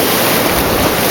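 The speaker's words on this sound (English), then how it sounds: "mostly where the waves are breaking" Sea waves breaking in calm surf, a continuous broadband wash of water, loud and close, with no distinct individual crashes.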